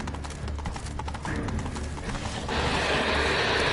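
Roach the horse gallops in The Witcher 3 (Blood and Wine), a rapid rhythmic clip-clop of hooves close by that grows louder and denser partway through, with no talk.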